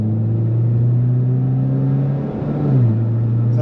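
Mitsubishi Lancer Evolution X with SST twin-clutch gearbox revs steadily from inside the cabin, engine drone climbing, then a brief dip as it shifts up into third gear and settles lower.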